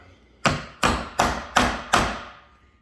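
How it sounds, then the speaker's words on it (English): A small hammer pounds a drill spin-art canvas attachment into wooden stops, five sharp evenly spaced knocks that are close and loud, with no voices. "pound it into that wood"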